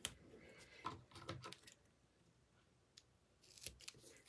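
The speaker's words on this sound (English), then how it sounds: "bring in my scissors and tear and tape along here" Scissors snipping tape during an Easter treat holder craft, a few quick, faint crisp cuts spread over a quiet room with soft handling noises.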